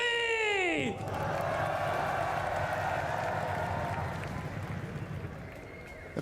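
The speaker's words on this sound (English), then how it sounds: "this crowd is amazing" Large crowd at a Valorant esports grand final, 100 Thieves versus NRG, breaking into sustained loud applause and cheering that fills the arena after a descending tonal sting, with a voice talking faintly underneath.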